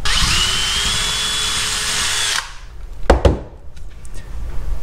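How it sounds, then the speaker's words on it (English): A power drill whines loudly as it bores a hole through a small bent metal bracket, then stops abruptly, followed by a few sharp clicks and knocks of the metal being handled. "And then drill out some holes in the end."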